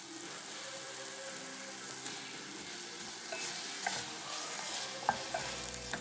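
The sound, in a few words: apple chunks cooking in a saucepan with vegan butter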